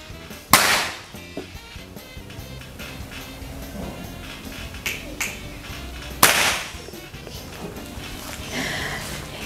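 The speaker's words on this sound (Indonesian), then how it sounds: "penembak akan langsung menembakkan target yang ada di depan" Two sharp air rifle cracks, one early and one later, fired at targets during an outdoor air rifle shooting contest, with a few softer knocks and steady background noise in between.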